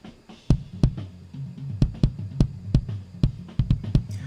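A kick drum thumps alone in a loose, uneven pattern of punchy low hits with a sharp click of attack on each.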